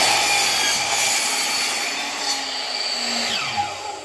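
A saw cuts wooden shelf boards to length in a steady, continuous rasping pass that fills the whole stretch at close range, loud and unbroken, with no talking.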